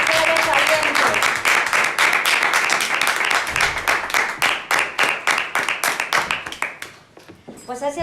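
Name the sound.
audience applause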